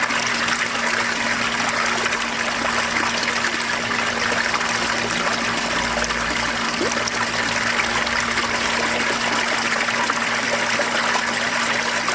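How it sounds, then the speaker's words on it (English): Water drains from aquaponics tanks through a homemade venturi valve, a loud continuous rushing and trickling flow that holds steady throughout with a faint low hum beneath. "these tanks are going to drain and raise our water level up again so that the valve is under the water"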